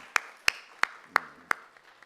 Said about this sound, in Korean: 우리 아동부 친구들 격려에 박수하겠습니다.